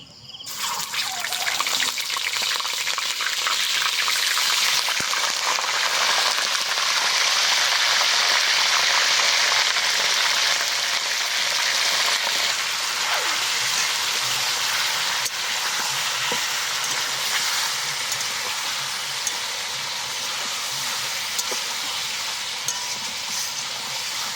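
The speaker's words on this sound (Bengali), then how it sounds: "এবার তেলের ওপর দিয়ে দিচ্ছি কেটে ধুয়ে রাখা মাংস।" Washed, cut chicken pieces frying in hot oil with whole cumin and whole garam masala for chicken biryani, a loud, steady sizzle with bubbling and occasional stirring that runs continuously throughout.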